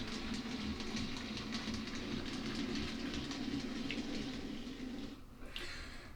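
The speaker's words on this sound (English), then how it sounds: "let's get this loco up and running again" A model railway locomotive runs steadily on a small modern layout track, a continuous low rumble with faint clicking that persists throughout, dipping briefly near the end.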